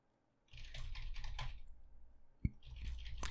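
Rapid typing on a computer keyboard during a browser session, a steady run of close, crisp key clicks with one sharper tap partway through and no talking.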